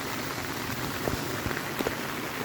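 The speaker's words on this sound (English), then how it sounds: "we're going to let it rain some more" Steady rain hissing on a taut tipi tent, with scattered louder drops tapping through a constant wash of noise.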